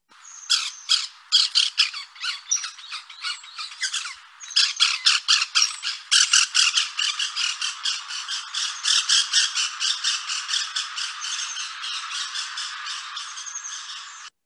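A long series of harsh, rapid woodpecker alarm-call squawks repeats in quick bursts, close and steady, with no voices or other sounds.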